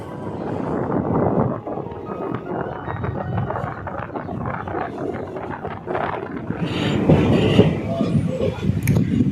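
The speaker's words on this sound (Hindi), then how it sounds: "ट्रेन अपना टाइम से 8 मिनट लेट चलता हुआ केसर बेंगलुरु मैजिस्टिक स्टेशन से खोल दिया है" The Prashanti Express (18464) pulls out of Bangalore Majestic station, running eight minutes late, with a continuous rumbling roar of rolling wheels and carriages. Scattered clanks and squeals build as the train picks up motion.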